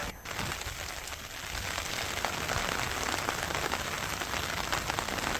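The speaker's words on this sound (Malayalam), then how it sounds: "പ്രദേശത്ത് ശക്തമായ കാറ്റും മഴയും തുടരുകയാണ്" Heavy rain beats steadily on surfaces at a landslide search site in Shirur, with continuous dense hiss that grows slightly louder as it goes on; no voices are heard.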